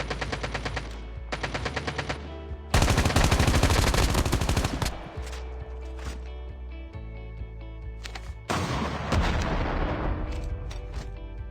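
An enemy tank firing blasts in Call of Duty Mobile: heavy, continuous bursts of gunfire and booming explosions, loud and sustained, with brief lulls between volleys.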